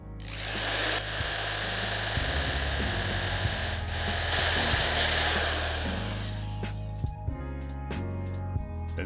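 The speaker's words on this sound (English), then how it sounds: "we begin the drilling" A power drill runs steadily for several seconds as it bores into a string trimmer spool for a steel cable modification, a loud continuous whine that cuts out near the end, leaving scattered clicks and knocks.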